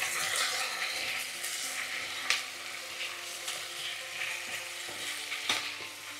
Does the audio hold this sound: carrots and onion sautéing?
yes